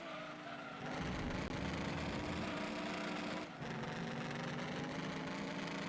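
A racing car engine in Gran Turismo 2 drones steadily at a fairly constant pitch, a continuous buzzing whine with one brief dip midway, faint and unaccompanied by talk.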